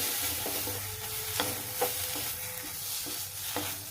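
Egg curry masala fries in a pan on a gas stove with a soft, continuous sizzle, broken by several sharp spatula taps and stirring scrapes.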